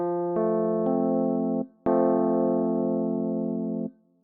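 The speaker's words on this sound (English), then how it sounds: "it produces a harmony, which sounds like this." Sustained synthesized tones stacked into a steady harmonious chord, heard alone: a short chord that shifts once, a brief gap, then a longer held chord that ends abruptly.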